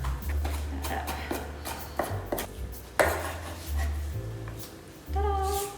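Ingredients for pork meatballs being minced with a knife on a board give rapid uneven chops and taps, joined by a low steady hum and brief whimper-like tones near the end.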